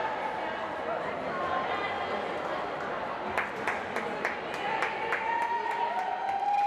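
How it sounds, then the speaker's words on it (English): Spectators at a high school swim meet cheer and clap for a swimmer, a dense, steady crowd roar with scattered claps and distant shouts, heard alongside nearby talk. "Everybody's cheering her on."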